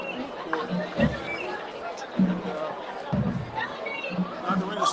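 Crowd chatter in a busy food court at a high school football game, a steady indistinct babble of many voices with a nearby speaker talking over it.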